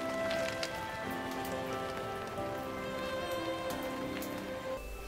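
Steady rain falls while riding a bicycle touring through the Baltic states, a dense continuous patter of drops on surfaces with no pauses, accompanied by a soft music bed throughout.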